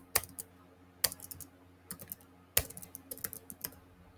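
Someone types on a computer keyboard close by, in quiet clusters of quick keystrokes separated by short pauses.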